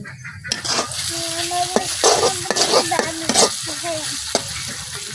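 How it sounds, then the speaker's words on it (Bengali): Onion frying with mixed spices in a pan for broiler chicken makes a loud, close sizzle, broken by repeated scraping stirs and light clinks of utensil on pan, with no talking. "মশলা গুলাইতে গুলাইতে পেঁয়াজটা কিন্তু অনেকটাই ভাজা ভাজা হয়ে গেছে"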